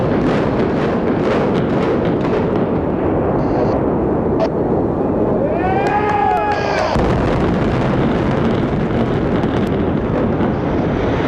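The Sands Hotel/Casino in Las Vegas is brought down by a 1996 demolition implosion, heard as a continuous, loud, rumbling roar with wind buffeting the microphone and a brief siren-like tone in the middle.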